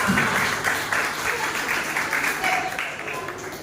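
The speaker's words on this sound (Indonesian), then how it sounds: "Tepuk tangan." A classroom of students clapping their hands together in a steady, rhythmic pattern, with voices mixed in under the claps.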